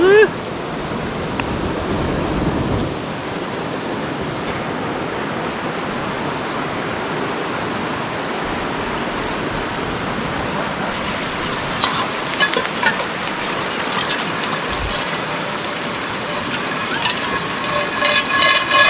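Steady rain falling outside at a riverside campsite on Trinidad's Shark River, a dense, even hiss that runs throughout, with occasional heavier patters and brief scattered talk.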